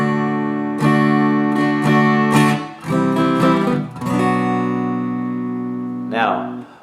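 Acoustic guitar strumming a song, played close and fairly loud in repeated rhythmic chord strokes with short pauses between phrases and a final brief scrape of strings near the end.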